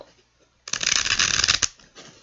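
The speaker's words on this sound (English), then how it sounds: "If you don't want to watch the shuffling, you can always fast forward through this part." Tarot cards riffle-shuffle in a quick burst of crisp fluttering, close up, ending with a sharp snap as the deck settles, then a soft rustle.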